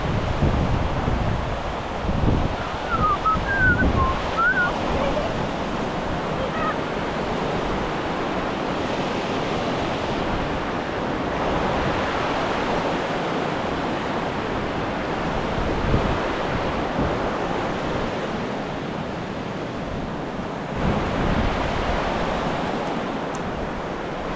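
Rushing water at a dangerous river crossing near Subhedar waterfall in Uchale, Murbad, a steady broad roar of flowing current filling the whole stretch, loud and continuous with no voices.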